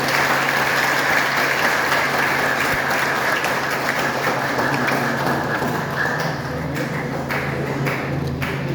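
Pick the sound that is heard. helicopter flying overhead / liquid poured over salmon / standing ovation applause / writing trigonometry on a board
standing ovation applause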